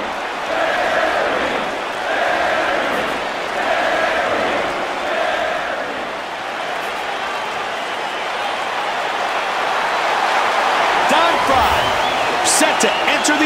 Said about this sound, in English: listen to the crowd. They love this guy